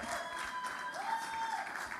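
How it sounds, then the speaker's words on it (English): A small audience at a convention panel claps steadily for a speaker, an even patter of applause lasting throughout, with a faint voice or tone under it. "Guys, please let's put our hands together for him."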